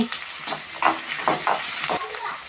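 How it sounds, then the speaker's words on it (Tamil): Shallots and garlic sizzle loudly in a pan for a Trichy-style fish curry, with several scraping stirs across the hot oil over a short stretch, close up and bright. "போட்டு நல்லா வெங்காயம் செவந்து வர வரைக்கும் கிண்டிக்கிட்டே இருக்கலாம் மக்களே"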